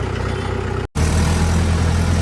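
A tractor pulling a mulcher through a wet field, chopping down a jute crop, with a steady low engine drone and a brief dropout near the start, then the running continues unbroken.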